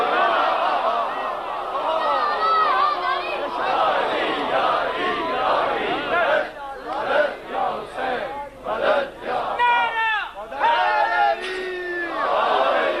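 A large crowd at a majlis during Ashra-e-Rajab shouts slogans in unison: loud, dense massed voices that swell steadily, then break into rhythmic bursts of chanted calls toward the end.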